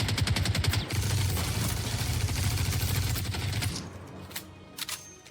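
Rapid video game gunfire rattles steadily for several seconds, then thins into a few sharp, scattered hits like bullets striking metal, with no voices.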